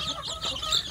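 Free-range village chicks and chickens clucking: short, high chirps and soft clucks repeating rapidly over a brief moment, close by.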